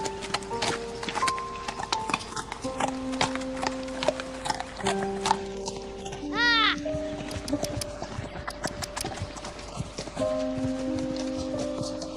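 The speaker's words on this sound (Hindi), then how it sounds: "मुझे भी घोड़ा चलाने दो ना।" A ridden horse clip-clops along with steady, close hoof beats, joined by a brief whinny midway, while background music and occasional voices carry on underneath.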